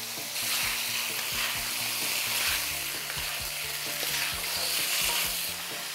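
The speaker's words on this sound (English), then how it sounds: "So we'll probably take about 3 to 4 minutes to cook the salmon here, and in the meantime we'll keep stirring it" Salmon stir-fries in a pan, a steady loud sizzle broken by repeated scraping stirs of the spatula, heard close with no talking.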